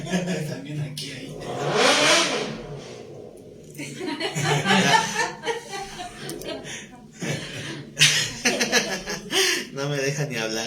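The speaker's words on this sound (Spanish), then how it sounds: "No me deja ni hablar ese de la moto." A motorcycle engine revs in bursts close by, mixed with people talking and chuckling over it.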